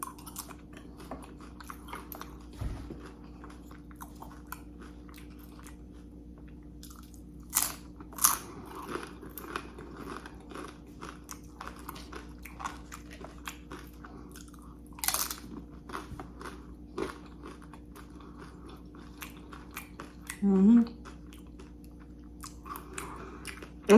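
Chili cheese nachos being chewed up close: repeated crunchy bites and crackling munching come in irregular bursts over a quiet room, with no talking.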